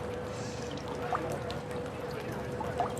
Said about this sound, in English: that water cascades down over these terracotta pots